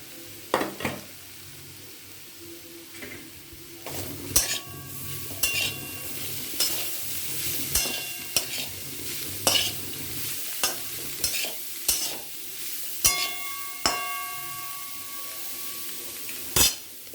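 Grated beetroot being stirred and fried in a pan for a homemade beet dish, with a steady sizzle broken by repeated sharp clinks and scrapes of a utensil against the pan, loud and close.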